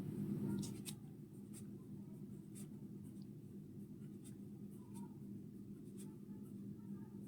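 Pen scratching out numbers on paper for a class 6 math divisibility exercise, steady soft scribbling strokes across the whole stretch over a constant low hum, close and quiet.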